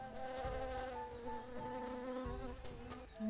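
Bees buzz steadily and fairly faintly in the Tales of Monkey Island PC game (2009), a continuous droning hum with no talk.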